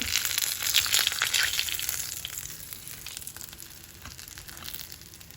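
Breaded escalope with a crisp-based coating frying in a pan: a dense, close crackling sizzle that is loudest at first and eases slightly, with no talk over it.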